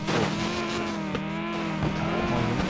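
Car accelerating hard to top speed in an open-world racing game, a loud close engine roar with harmonics climbing through the gears, sustained throughout.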